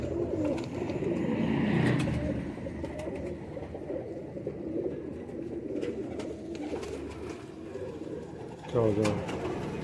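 Pigeons cooing at a rooftop high-flying setup, repeated low coos under steady ambient noise and a voice talking intermittently.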